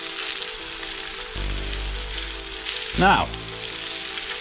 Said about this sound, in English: if the oil is hot enough, it should have just seared the skin immediately and the flesh